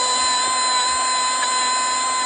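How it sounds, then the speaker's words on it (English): A Dremel rotary tool spinning a brass wire brush against the metal parts of a Porsche VDO electric windshield washer pump, giving a steady high-pitched whine close by with no pauses. "we are going to hit our handy little Dremel with our brass brush to make shorter and better work of this"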